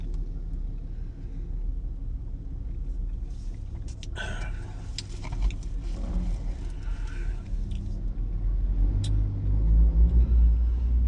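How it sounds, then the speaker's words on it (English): Trucks pull into an interstate truck stop to fuel up, their low engine rumble building steadily from a moderate distance and growing louder toward the end, with faint clatter and passing vehicle noise. "The trucks are pouring in here to fill up with their diesel fuel and things and stuff and grab something to eat."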